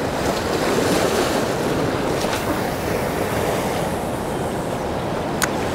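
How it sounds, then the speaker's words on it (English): Ocean surf breaks steadily over a jetty near New York City, a continuous loud roar of crashing waves mixed with wind buffeting the microphone, with no voices. "The waves are already starting to break over the jetty"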